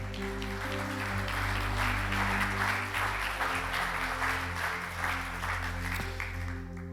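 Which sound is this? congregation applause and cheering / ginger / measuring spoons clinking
congregation applause and cheering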